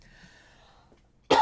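A single sharp, loud cough bursts out right at the end, after near silence.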